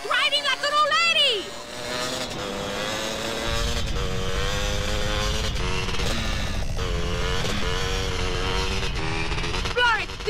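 A car engine drones steadily while driving in GTA San Andreas, a sustained mid-pitched hum with shifting tones under game music, preceded by a short burst of loud voices at the start.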